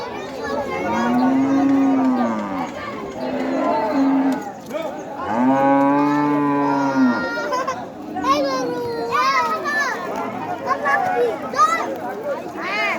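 Cattle moo in several long, loud, drawn-out calls, close by, while children and other people talk and call out between and over the lowing.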